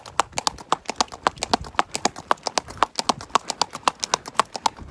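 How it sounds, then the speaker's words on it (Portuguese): Horse hooves clip-clopping in a steady, even rhythm on hard ground, close and clear, with the regular beats running for several seconds and no talk over them. "Isso é um cavalo"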